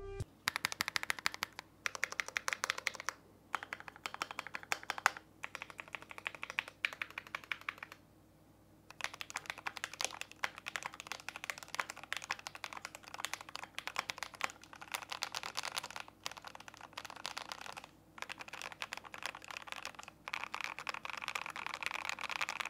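Rapid, continuous clacking of keys on a Glorious GMMK Pro gaming keyboard, close and crisp, with one brief pause partway through and no talking.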